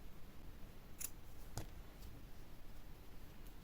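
Scissors snip through yarn during a crochet project, two or three faint, sharp clicks standing out over a quiet background hiss.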